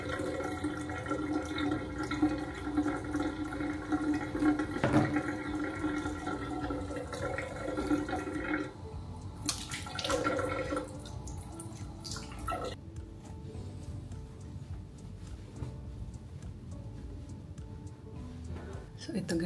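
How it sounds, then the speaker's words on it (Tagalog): A home shower runs with steady spraying water, dense and continuous, with a few clunks and handling noises partway through and faint voices in the background. "So, shower muna."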